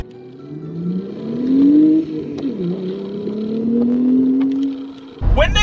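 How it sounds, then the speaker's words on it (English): Audi B5 RS4 estate car, a 490 bhp twin-turbo, pulling hard in second gear: a loud, close engine note rising steadily in pitch, dipping briefly at a shift, then climbing again before a sudden burst of wind noise at the end. "a little second gear pull for us"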